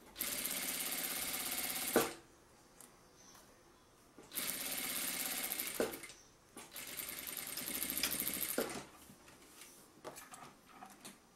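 Sewing machine stitching a fanny pack, running in three loud steady bursts of about two seconds each, separated by quieter pauses with small handling clicks.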